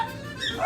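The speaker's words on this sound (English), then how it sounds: "Oh, well, there goes my dog." A dog barks briefly and a little way off in a home kitchen where shrimp scampi is being cooked, with a person's voice partly overlapping the short burst.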